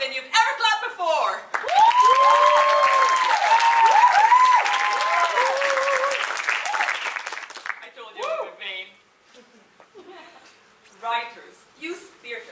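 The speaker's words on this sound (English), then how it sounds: "If you found this play interesting, clap louder than you've ever clapped before!" Audience applause at the close of a stage play, a loud burst of clapping that swells, holds for several seconds, then thins out while voices talk and laugh over the fading claps.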